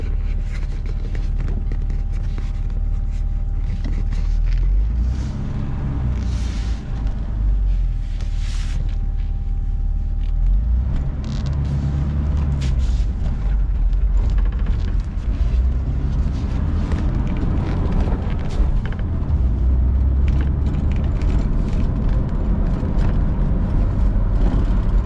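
A 2013 Harley-Davidson Road King with a faulty ABS module pulls away down a street, its steady engine rumble loud and continuous with wind buffeting the microphone.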